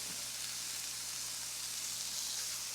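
Minced garlic with a pinch of salt sizzles softly in a pan while being stirred, a faint, steady hiss with no talking.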